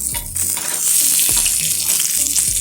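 A salmon fillet fries in a pan with a loud, close, continuous sizzle and crackle, mixed with a few low knocks and scrapes from the pan.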